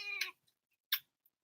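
A pet cat gives two short, quiet meows about a second apart in an otherwise silent room.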